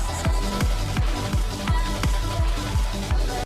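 Music from an underground horror sequence in the video game Stellar Blade plays a steady, thumping beat of deep, falling kick hits about three per second over a layered synth backdrop, with no speech.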